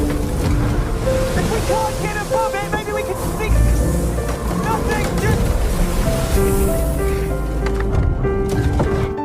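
Stormy sea with crashing waves and gusting wind around a sailboat in the film Adrift, a loud continuous roar with surging swells, with talk over it.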